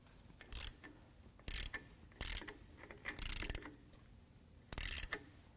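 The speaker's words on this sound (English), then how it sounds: "Now we're going to try to turn this cam over." A camshaft in a damaged Silverado 4.3L LV3 V6 engine is turned over by hand during teardown, giving a handful of faint, irregular metallic clicks and ratcheting bursts separated by quiet pauses.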